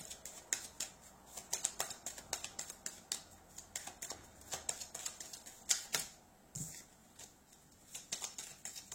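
Oracle cards being shuffled and drawn, with rapid close clicking and flicking snaps in dense, uneven bursts and a short pause near the end, faint and without talking.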